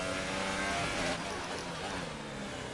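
Formula 1 race car engine in the F1 2018 video game, a continuous high-pitched whine that swells briefly as the car overtakes, then settles back, steady and close without voices.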